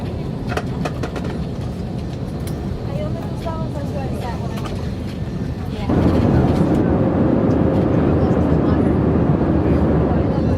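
A steady, loud cabin roar of an aircraft in flight to Puerto Rico, deepening into a heavier droning hum partway through, with some muffled talk early on.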